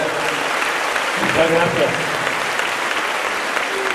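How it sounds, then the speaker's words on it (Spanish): Audience applause at a Familias en Acción opening event rolls on continuously while someone briefly speaks over it. "Un aplauso para ustedes, por favor."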